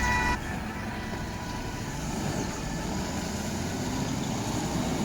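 A fire truck heads out on a rapid call in a town centre, its low engine rumbling steadily at middling distance for several seconds after a short bright tone at the start.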